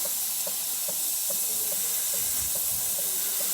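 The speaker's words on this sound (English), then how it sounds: "There's the steam." A steady, bright hiss of steam from a Jura Impressa coffee machine's steam wand runs throughout, with faint rhythmic ticking beneath it and no voices.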